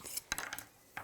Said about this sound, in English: I like the noise though when you Hit the table.